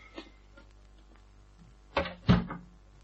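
A car door is shut after the occupants climb out, giving two close, solid thuds in quick succession after a faint earlier click in an otherwise quiet setting.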